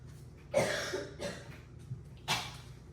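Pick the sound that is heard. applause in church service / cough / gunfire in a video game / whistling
cough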